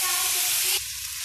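Tofu fries in a pan, a loud bright sizzle that suddenly drops to a softer, steadier hiss partway through, heard up close with no talking.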